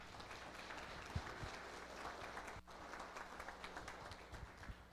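An audience at a public hearing on neighbourhood road paving applauds, a steady, moderately distant wash of clapping with a few sharper claps and a brief dip near the middle.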